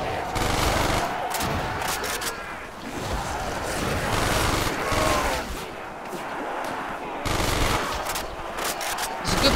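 Rapid automatic fire from an AUG assault rifle with a double-tap upgrade in Call of Duty: World at War custom zombies, a dense, continuous rattle of gunfire running loud throughout with brief dips between bursts.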